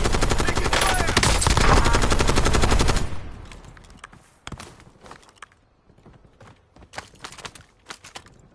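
Gunfire in the video game Call of Duty Black Ops 6 Warzone, with a dense, loud burst of rapid shots that cuts off and gives way to scattered sharp single shots and scuffling.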